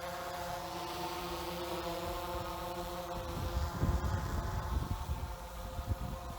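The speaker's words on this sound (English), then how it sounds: "you might hear the drone" A DJI drone in free Hyperlapse mode flies past, its steady high buzzing whine holding throughout and growing louder with wind rumble as it passes near, then easing; no talking.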